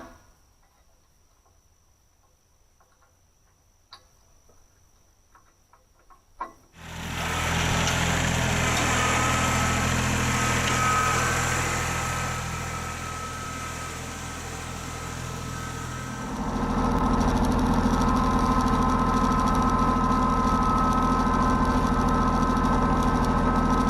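A tractor engine pulling a rear scrape blade along an existing slope starts up after a few seconds of quiet, then runs loud and steady with a continuous drone that dips slightly and swells again near the end.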